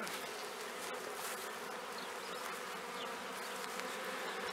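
A honeybee swarm that has settled on the ground hums in a dense, continuous buzz, steady and fairly close, with no voices.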